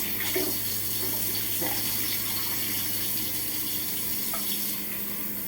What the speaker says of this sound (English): Let's rinse them off.